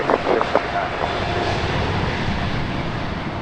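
A Qatar Airways Boeing 777-200LR jet roars at LAX in a broad, steady wash of engine noise, with a few brief thumps at the start.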